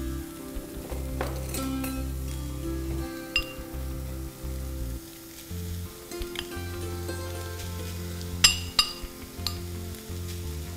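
Rice stirred into a pan of spicy Korean-style fried rice sizzles steadily while a utensil scrapes. Occasional bright clinks of metal against the pan stand out, with no talking.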